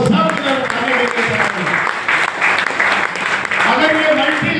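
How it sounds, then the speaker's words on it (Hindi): Seminar audience in Rishikesh clapping on cue, a loud burst of hand claps in an indoor hall that rises and falls in waves, with crowd voices mixed in. "एक बार ताली बजाए"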